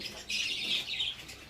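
Pigeons in a loft give a short burst of squawky calls with flapping, close and fairly loud, over a soft background.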